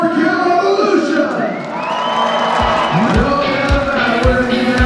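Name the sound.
crowd cheering in a cheer-off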